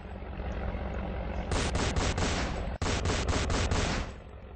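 Battleship cannons firing in the Roblox game Battleship Tycoon, a loud dense volley of rapid repeated blasts over a steady rumbling background, with a brief cutout midway before the firing resumes.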